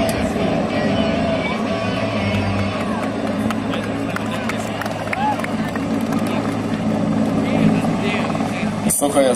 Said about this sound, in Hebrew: מסוק היסור מסוגל לשאת עד שני רכבים על צוותיהם או 50 לוחמים בתא המטען